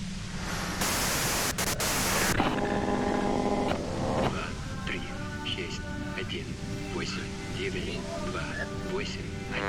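Loud, harsh white-noise static from the Disco Elysium video game hisses for about two seconds, then cuts out as a voice talks over ringing game tones.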